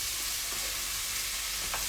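Spiced Bombay potatoes fry over a high flame, making a dense, even sizzling hiss close by with no clear separate stirring strokes.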